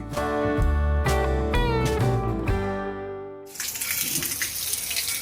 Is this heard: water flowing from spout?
yes